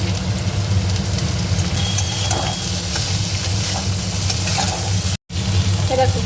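Sliced bitter gourd and potatoes sizzle and crackle steadily in a hot pan, a close, constant frying hiss with faint stirring and a brief dropout near the end.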